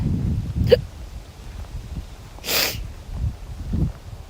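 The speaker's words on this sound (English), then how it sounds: "Oops, I got the hiccups." A single sharp hiccup from a person live-streaming a Pokémon game, close and brief, followed by a short breathy burst and quiet background murmur.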